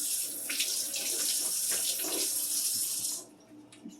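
Water runs steadily from a tap, splashing with a bright hiss onto parchment paper in a baking pan, then cuts off abruptly near the end, leaving faint drips and quiet.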